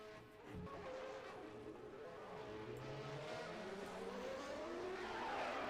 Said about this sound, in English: the cars, as you can probably hear, are now going out on their warm-up session